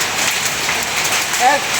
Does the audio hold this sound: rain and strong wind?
yes